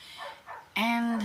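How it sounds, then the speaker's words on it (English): A dog barks outdoors with a single loud, sustained bark-like burst at the end, after a person speaks briefly over a quieter background. "apologies for the outside dog barking"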